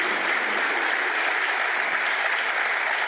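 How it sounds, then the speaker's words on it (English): Steady, dense applause from a conference audience at a Mediterranean Dialogues plenary session, loud and continuous throughout with no gaps. "Please join me in a round of applause for the Minister and for Lina"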